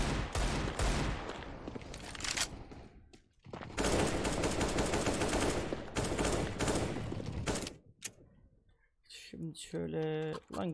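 Rifle fire in Counter-Strike: Global Offensive comes as loud, rapid automatic bursts separated by short gaps, followed by a quieter stretch of clicking near the end.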